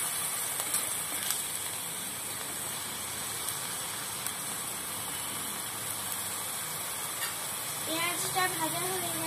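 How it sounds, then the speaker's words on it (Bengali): Onion fries in a pan while being stirred, giving a steady, fairly faint sizzle and hiss throughout, with a brief voice-like tone near the end. "পেঁয়াজটাকে ভালো করে নেড়ে চেড়ে ভাজতে হবে।"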